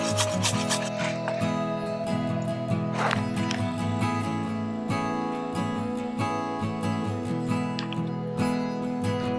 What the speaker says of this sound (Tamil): நான் வந்து துருவிப்பேன் இந்த மாதிரி